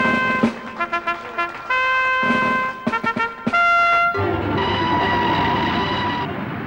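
A locomotive named Night Mail at a naming ceremony marked by the Post Office and British Rail sounds loud, sustained horn-like tones in several bursts, then a long held blast over rumbling train noise, with no talk.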